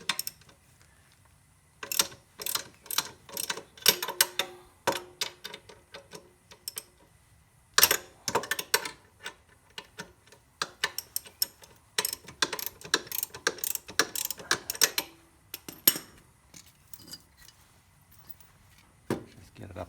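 A hand ratchet clicks in short bursts while loosening the nuts on a quad bike's chain adjuster, close and irregular, with pauses between runs of rapid pawl clicks.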